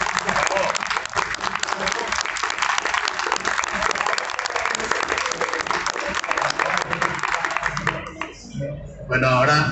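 Strong, sustained audience applause at a tribute to an author at the Monterrey book fair, loud and close, fading near the end as a voice begins to speak.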